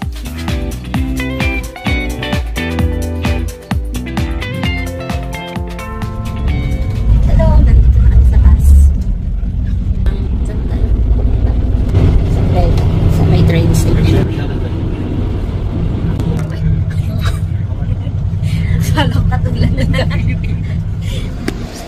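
Traffic and buses rumble at a Rotterdam city bus station near City Hall, with steady engine noise and passing vehicles, a louder surge midway, under background voices and some music early on.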